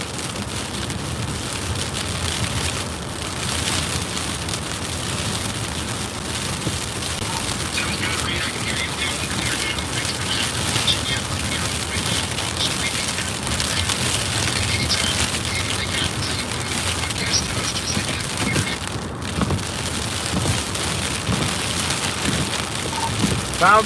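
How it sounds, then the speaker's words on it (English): Heavy freezing rain mixed with snow pelts down outdoors during a winter storm in Travelers Rest, South Carolina, with winds topping 40 mph, making a dense, steady hiss that runs unbroken from start to finish. "we're getting very heavy freezing rain mixed with snow here"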